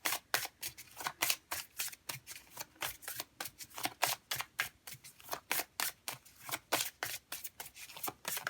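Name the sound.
shuffling oracle cards to draw a final card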